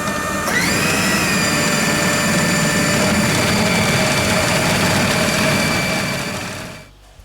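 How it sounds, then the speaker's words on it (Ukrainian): A blender switches on and whirs at a steady high pitch for several seconds while blending cheese curd for a cheesecake, then winds down and stops. "Включаємо блендер. У блендері перебиваємо сир."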